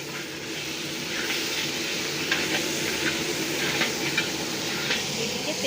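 Tel potka frying in hot oil while cooking for a birthday gathering, a steady close bubbling sizzle that holds throughout, with faint stirring scrapes and no voices.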